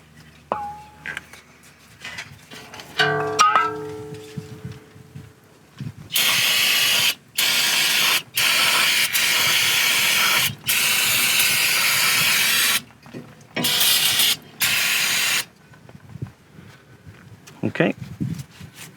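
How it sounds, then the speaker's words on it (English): Several bursts of loud, hissing aerosol cleaner sprayed on a Honda Odyssey front brake caliper, some long and some short, separated by brief pauses, with faint sounds of work before and after. "we can do a little spray on the caliper."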